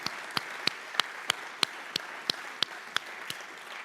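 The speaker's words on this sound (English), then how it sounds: "one more round of applause for all of our new inductees" Hands clap for new inductees at the Keene State College Athletics and Alumni Hall of Fame induction ceremony in 2024. About a dozen crisp, evenly spaced claps stand out against a quiet background.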